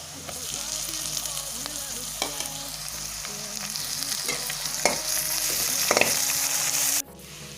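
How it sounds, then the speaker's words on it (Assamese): Ginger garlic paste fries in hot oil in a kadai with onions for fish egg curry, a loud continuous sizzle broken by rhythmic scraping stirs and spoon knocks, swelling near the end before stopping suddenly. "এতিয়া আদা নহৰু পেষ্টখন দি লম"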